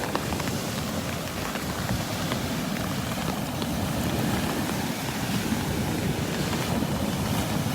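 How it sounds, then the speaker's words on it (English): Continuous rushing surf washes over Delnor-Wiggins beach on the Gulf of Mexico, a dense and steady roar of breaking water with no voices. "The sound of those waves."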